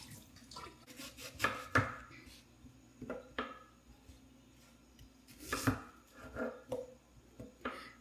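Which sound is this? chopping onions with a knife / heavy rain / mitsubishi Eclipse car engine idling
chopping onions with a knife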